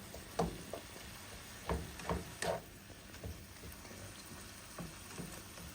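Frozen venison burger cooking in a covered pan, giving a soft, steady sizzle with a few louder crackling pops scattered through it.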